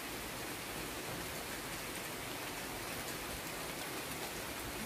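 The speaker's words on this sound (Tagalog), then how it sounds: "kay sarap ng ulan ito, dito masarap maligo" Rain falling outdoors in Milan, a dense, even hiss of drops pattering on surfaces, steady and unbroken throughout with no voices.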